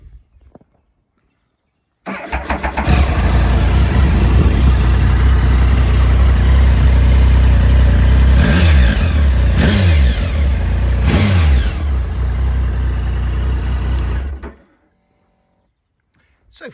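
A motorcycle with about 20,000 miles starts up after a short silence, then runs loud and close with a steady idle broken by several sharp revs before cutting off abruptly, no talking.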